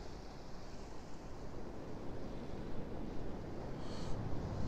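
Sea waves wash continuously onto Amaharashi Coast near the Otoko-iwa rock in Himi, a broad, steady roar mixed with wind buffeting the microphone and a slight swell toward the end.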